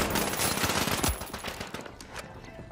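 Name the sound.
turret gunfire in the video game The Finals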